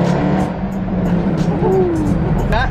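Mercedes C63 Black Series V8 roaring loud and close through a short tunnel, a steady engine drone with a rising pitch sweep near the end.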